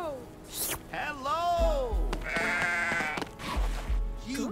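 Goats in the video game Goat Simulator 3 bleat in several loud, wavering calls close by, one after another, with a voice and game sounds mixed in.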